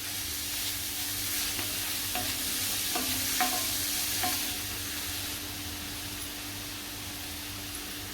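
Onion frying in butter crackles with a steady close sizzle, broken by a few scraping strokes of a spoon stirring the pan.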